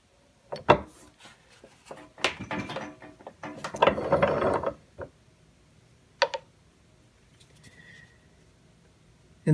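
A hand-lever press stamps a maker's mark into oil-tanned leather in a workshop, with a few ratcheting mechanical clicks and creaks and a louder grinding, clunking burst midway, then scattered knocks and quiet gaps.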